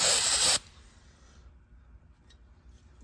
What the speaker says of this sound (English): just spray it out with a little bit of cleaner like that.